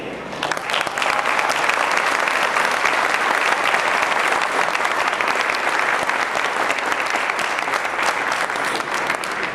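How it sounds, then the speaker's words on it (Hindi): Loud, sustained applause from a seminar audience at a training session, a thick, continuous roar of clapping hands that starts abruptly and stays strong to the end. "आप स्टेज पर जोरदार अपने लिए ताली बजाइए।"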